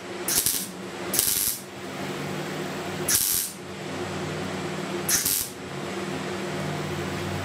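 Tack welds go onto an upper cowl rust repair panel on a 1969 Chevy C10 in four short, crackling bursts, each followed by a pause, over a constant hum from a running fan.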